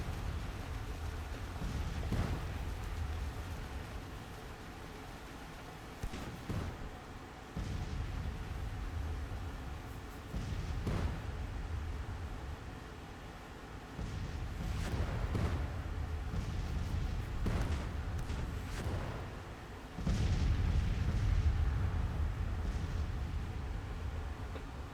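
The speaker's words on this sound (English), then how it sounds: "all these batteries are actually firing" Artillery batteries firing in the Civil War strategy game Grand Tactician, with distant booms recurring irregularly every few seconds over a steady low rumble, no talking.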